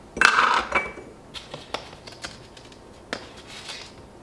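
Metal filter basket dropped into the portafilter of a Lelit Bianca espresso machine, a bright clatter followed by a few sharper clicks and small taps, close and alone.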